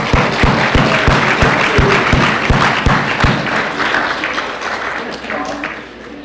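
Audience applause fills a hall at an awards ceremony, steady and fairly loud for several seconds, with a few sharp thumps early on, then thinning out toward the end.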